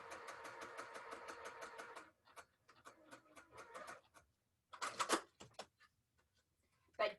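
A sewing machine stitching quilt rows, rapid rhythmic needle clatter in bursts with short pauses between runs, close but quiet, no talking.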